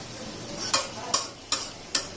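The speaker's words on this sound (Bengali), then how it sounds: "মিষ্টি কুমড়া ভাজি করছি" Sweet pumpkin frying in a pan gives a soft steady sizzle, broken by four evenly spaced scraping clicks as a utensil stirs the pieces, close by and with no voices.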